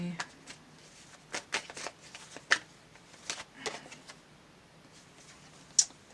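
A deck of tarot cards being shuffled by hand to draw another card: a string of soft, riffling bursts and taps in an uneven rhythm, close by and fairly quiet.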